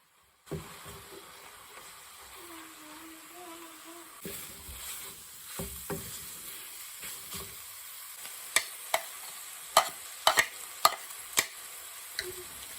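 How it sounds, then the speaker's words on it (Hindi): Ground spices and crushed coriander are roasted in hot oil in a pan, giving a steady sizzle and hiss, followed later by sharp clicks of a spoon stirring against the pan. "तो डाल के मैं अच्छी तरह से मिक्स कर लूँगी और थोड़े से मसाले भी भून लूँगी"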